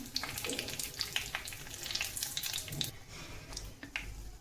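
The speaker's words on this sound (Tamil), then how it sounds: "கடுகு பொரிஞ்சு வருது. ஸோ இந்த டைமில் நம்ம கருவேப்பிலை ஆட் பண்ணிக்கலாம்." Mustard seeds and curry leaves sizzle and crackle in hot oil for a Tamil drumstick poriyal, a steady close frying hiss with scattered sharp pops throughout, no talking.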